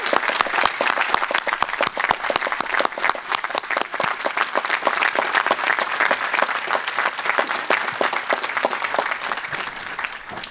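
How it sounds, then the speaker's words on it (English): Ceremony audience at a college graduation celebration applauds the college president, dense sustained clapping from many hands, loud and continuous for about ten seconds with no speech. "I hope you'll join me in applauding our president."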